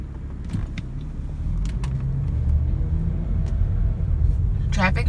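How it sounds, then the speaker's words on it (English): Steady low rumble of car traffic on the 405 highway in Los Angeles, heard from inside a vehicle with a constant engine and road drone and a brief higher sound near the end. "I'm gonna show y'all what this traffic be like."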